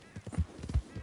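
Horse hooves clip-clop at a steady trotting rhythm in Red Dead Redemption 2, several close, firm beats over about a second with no talk.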